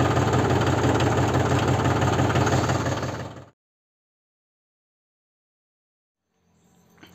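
A Mahindra 275 DI Bhoomiputra tractor with clutch plate and starter trouble runs with a loud, steady, throbbing idle close by, then cuts out abruptly, leaving silence before a faint rumble returns at the very end.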